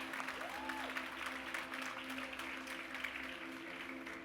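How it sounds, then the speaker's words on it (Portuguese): At a church gathering, the audience applauds steadily and evenly for several seconds, with a steady hum running beneath the clapping. "Aplauda ele em nome de Jesus."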